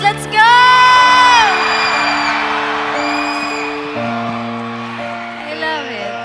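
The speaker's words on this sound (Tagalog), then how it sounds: "Sigaw nga tayong lahat! Let's go!" A crowd at a lively gathering shouts and cheers together in one loud, sustained burst, with whoops and high voices rising and holding over a music bed before fading slightly.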